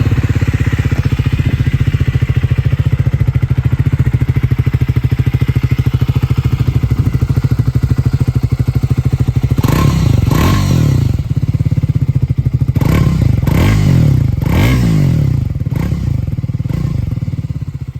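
A loud 2024 Triumph Speed 400 motorcycle engine starts and rumbles steadily at idle throughout, with a few throttle blips and clattering knocks partway through.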